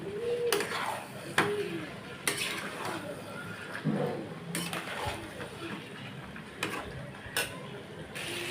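A metal spoon stirs fried potatoes into chicken in a pot, giving repeated scraping clinks and clanks against the pot in an irregular rhythm, close and fairly loud.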